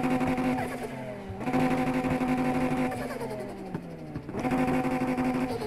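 Supercar engine in Need for Speed Heat, a loud steady rev that rises and dips with gear shifts over several seconds, close and alone with no talk.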